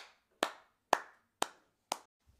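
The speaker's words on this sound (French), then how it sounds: "Ah, attention, on applaudit." Four single, sharp hand claps at an even pace about half a second apart, close and fairly faint, each decaying quickly into silence, welcoming a star's arrival on a town square.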